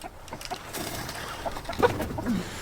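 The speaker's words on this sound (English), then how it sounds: "There's the 2 roosters side by side right there." Two roosters standing side by side give scattered, fairly faint clucks over a soft outdoor background, with several short calls spread across the moment and no speech.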